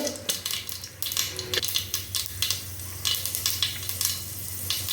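Mustard seeds and chana dal sizzle and crackle in hot oil for tomato rice, with steady frying hiss, sharp seed pops and occasional stirring clinks of a spoon against the pan, close and continuous.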